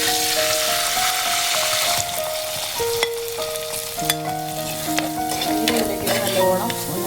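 Dried red chilies and curry leaves crackle and sizzle in hot oil, a loud close frying hiss with sharp pops and tonal squeals as the pan is stirred.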